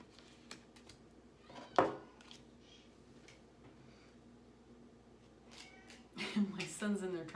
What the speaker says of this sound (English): his meowing in the kitchen is okay